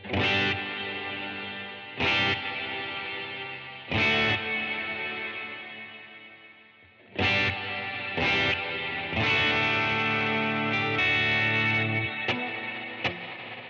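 Electric guitar notes ringing through a thick, washy cloud-setting reverb pedal, struck in separate bursts with long sustaining tails that blur together, no voices.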